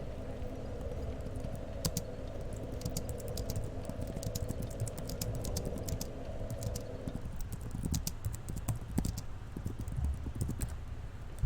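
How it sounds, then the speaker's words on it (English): Someone types on a computer keyboard during a Dark Souls play session, steady quick clicking in irregular bursts under a low background hum, with no voices. "Sorry, I was typing."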